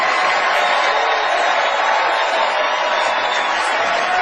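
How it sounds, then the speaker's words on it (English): An Oscars audience applauds Meryl Streep, a dense, sustained wash of clapping and crowd noise that stays loud and even throughout. "giving Meryl Streep a totally undeserved round of applause"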